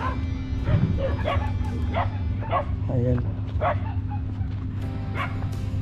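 Several dogs in a rural province bark and yip repeatedly in close, uneven bursts, mixed with whimpers, under a steady background hum while a person talks.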